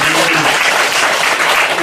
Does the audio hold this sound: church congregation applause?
yes